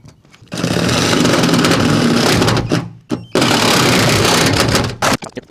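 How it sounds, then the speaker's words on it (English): A jigsaw cuts through the metal roof of a Dodge ProMaster van for a Maxxair rooftop vent, a loud continuous harsh buzzing that runs for a few seconds, stops briefly and starts again. "I think we're also gonna try the jigsaw now"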